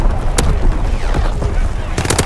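Artillery battery firing in Call of Duty WW2, loud heavy booms and bursts with a sharp blast near the start and a cluster of explosive shots near the end, over a dense rumbling battlefield din.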